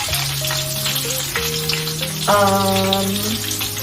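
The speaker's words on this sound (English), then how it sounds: "you might as well caramelize all the onions for now and then split it in half" Onions caramelizing in a frying pan for a country fried steak sauce, a continuous close sizzle under steady tonal humming.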